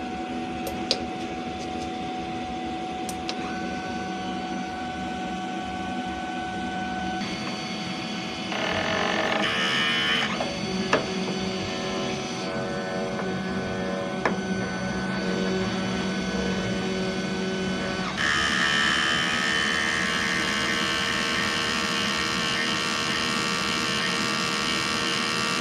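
A printer runs a print head cleaning cycle, humming and whirring close by through shifting mechanical stages with brief clicks, motor pitch changing partway through; no voices.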